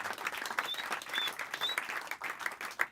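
An audience at a pop-up comedy show claps and applauds continuously, a dense, lively patter of many hands from start to finish with no voices standing out.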